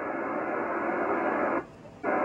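A Kenwood TS-2000 radio scans 10 meter FM, producing a steady hiss of static that drops out briefly near the end as the receiver pauses, then the hiss returns just as loud.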